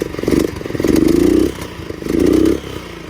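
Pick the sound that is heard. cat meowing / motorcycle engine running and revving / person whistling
motorcycle engine running and revving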